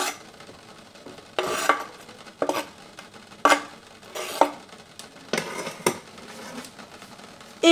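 A utensil stirs onions, garlic and cherry tomatoes in an oiled frying pan, giving repeated scraping, clattering strokes with short pauses over a faint background; no speech.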